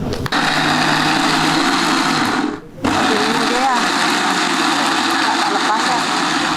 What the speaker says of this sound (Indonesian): Ini kita akan blender sekarang, Pi.